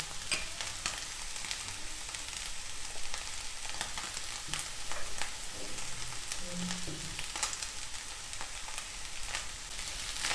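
Chicken filling with capsicum, cabbage, salt, dried coriander and spices fries in a pan for chicken bread rolls, a steady hissing sizzle with scattered scraping stir clicks, no talking.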